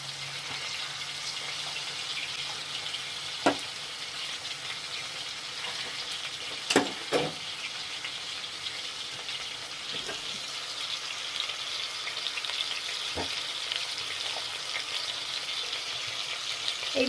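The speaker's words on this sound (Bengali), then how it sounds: "একদম লো আঁচে এটাকে করতে হবে গ্যাসে, কাবাব উইদাউট মাইক্রোওয়েভ" Kebab frying in a pan on a low gas flame makes a constant soft hiss and sizzle, broken by a few light clinks and taps, with no talking.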